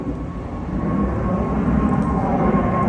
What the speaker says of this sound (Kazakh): мечитибиздин үстүндө самолет учуп барды